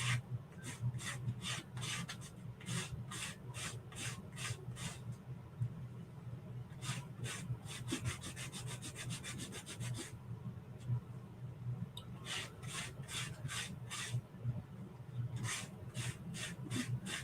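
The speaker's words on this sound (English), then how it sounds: "So I'm just sanding this to get rid of some of the texture." Rhythmic rasping strokes of sandpaper on wood, in quick bursts with short pauses between, close and fairly quiet.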